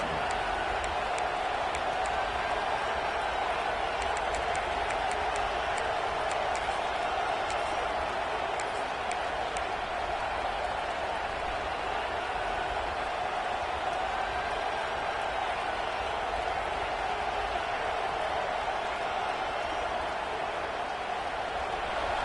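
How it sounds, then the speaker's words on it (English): A home crowd at a football game roars steadily throughout, a dense, distant wall of cheering and murmur with no breaks. "this home crowd is fired up and ready to make a difference today"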